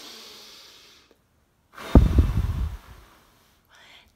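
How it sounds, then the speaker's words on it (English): One strong, forceful breath blown out at a feather during a breathing exercise. The close, rushing exhale lasts about a second after a quiet pause, with soft breath noise before it, and is heard alone. "That's a strong, powerful breath."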